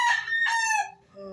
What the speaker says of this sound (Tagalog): Ang mga manok ng anak ko, ayan. Ang daming manok